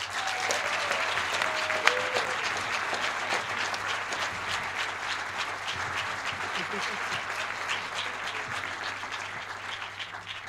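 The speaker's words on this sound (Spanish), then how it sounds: "em fa molta il·lusió dedicar aquest aplaudiment, espero que aplaudim molt fort" Loud, sustained applause from a large audience at a live event, dense steady clapping filling the whole stretch with a few cheers on top.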